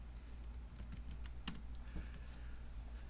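Quick laptop keyboard keystrokes for a Control-C command, a few sharp clicks spaced about half a second apart, close and fairly quiet over a steady low hum.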